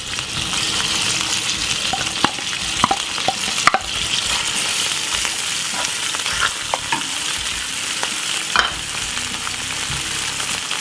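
White onion frying in unsalted butter for shakshuka, a dense continuous sizzle with scattered light clicks and spatula scrapes, steady and near throughout, no speech.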